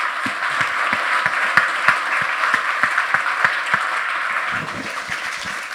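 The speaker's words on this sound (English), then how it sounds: "give them a big round of applause" An audience at a hacker conference claps in sustained applause, with a few sharper individual claps standing out over the dense, even roar.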